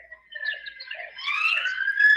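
A siren wails with rising, sweeping tones, growing louder toward the end, with faint bird calls mixed in.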